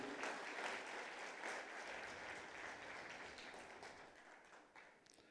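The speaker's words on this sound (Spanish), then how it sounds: "Denle un fuerte aplauso, mis hermanos, y lo van a aplaudir." A church congregation breaks into sustained applause, a dense wash of many hands clapping throughout a worship service, heard fairly faint and distant and tapering slightly toward the end.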